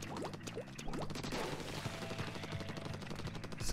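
Rapid weapon fire from the Splatoon demo video game, dense repeated bursts over music and game effects at moderate loudness, with no talking.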